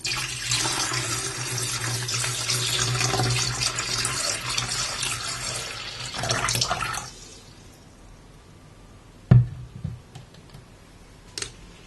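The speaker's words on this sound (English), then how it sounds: "Put some water in the kettle." Tap water runs steadily into a kettle for about seven seconds in a quiet kitchen set up for traditional English tea making, then stops, followed by a few close handling knocks and clinks.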